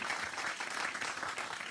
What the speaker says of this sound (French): Vous pouvez l'applaudir parce que là, il attend les applaudissements pour le macaron d'Amiens.